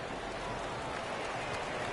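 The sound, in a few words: rain falling at football game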